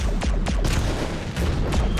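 Explosions in the space game Freelancer erupt as a dense, continuous barrage of booming blasts and crackling bursts, loud and close, with no talking.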